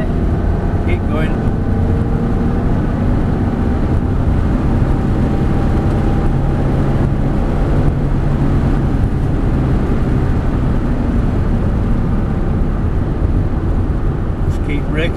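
A Ferrari 360 race car on track, its engine roaring loud and steady from onboard with a constant drone and brief shifts in pitch, while a coach talks over it.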